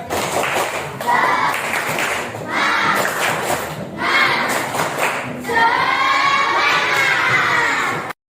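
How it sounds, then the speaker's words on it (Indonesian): A school class performs a rhythmic clapping cheer, with children shouting in unison over patterned bursts of claps in several short phrases, loud and close, ending abruptly. "Tepuk semangat."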